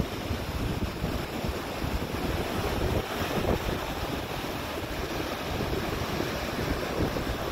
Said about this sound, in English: The healing sounds of the ocean waves are so beautiful, so wonderful, so relaxing, so empowering to the spirit.